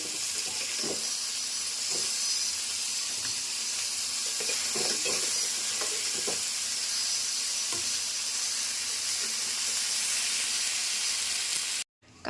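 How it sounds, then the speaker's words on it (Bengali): Crabs frying in mustard oil in a pan: a continuous crackling sizzle heard up close with no talking. It cuts off abruptly near the end. "কাঁকড়াগুলো মোটামুটি ভাজা হয়ে গেছে বন্ধুরা"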